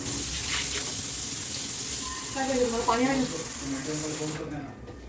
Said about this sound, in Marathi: खूप भांडे पडले होते त्यामुळे मी भांडे आधी धुवून घेतले